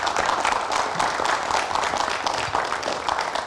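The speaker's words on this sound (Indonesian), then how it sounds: "kita berikan tepuk tangan" A studio audience on a talk show bursts into brisk, dense applause, many hands clapping at once in a steady burst lasting a few seconds.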